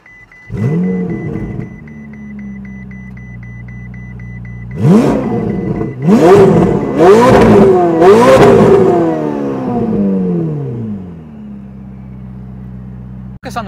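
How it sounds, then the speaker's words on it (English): A Ferrari 488 engine blips once near the start, then after a pause revs several times in quick succession, each sharp rise and fall loud and close before settling back to a steady idle. "you guys came for the engine noise, so let's show them what that sounds like."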